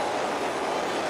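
A high-speed train from the film Train to Busan gives a steady, loud rumble and rolling rail noise that fills the whole moment without a break.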